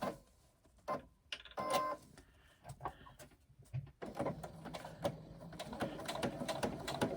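A sewing machine stitches an iPad case flap, running in short bursts with pauses between them, then in a steadier run of mechanical whirring and clatter. It sounds close by, and no one talks.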